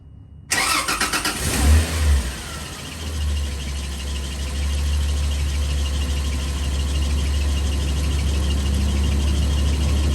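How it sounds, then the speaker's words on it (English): A Toyota FZJ80 Land Cruiser engine cranks briefly, catches and settles into a steady, loud idle, heard close up and alone with no talking. "He's gonna start the engine, and I'm gonna tell him to stop when the level gets to the 3-quart mark"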